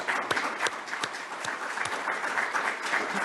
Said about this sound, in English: the rest of our panelists deserve a nice round of applause